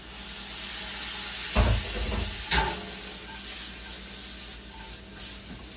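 Fiddleheads tumble into a pan of sizzling onions, giving a steady frying hiss with two soft thumps as the greens land and stir in, after which the sizzle carries on evenly.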